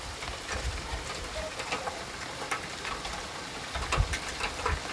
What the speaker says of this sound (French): Il y a de la grêle, les amis